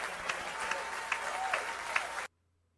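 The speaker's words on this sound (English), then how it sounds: "People clapping for this" Steady audience applause, dense overlapping handclaps with occasional crisper slaps, cut off abruptly into silence near the end.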